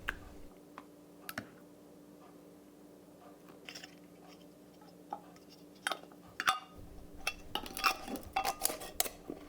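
Small glass jars being filled and capped in a home kitchen, giving sparse, light clinks and clicks of glass and lids with brief handling taps that grow busier near the end, close by and quiet, with no voices.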